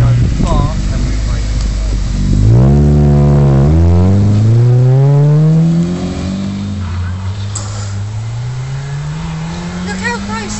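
A Ford Mondeo track car accelerates hard on a circuit, engine revs sweeping upward through gear changes before easing off, loud and close from inside the car.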